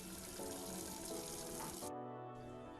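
Water gushes steadily from a household tap, a continuous close splashing rush that changes tone near the end as the flow shifts.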